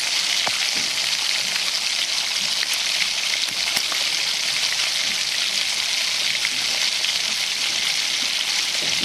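Semiya uttapam cooking in a lidded pan on the stove, a steady, close, crackling sizzle that continues evenly and alone without pause.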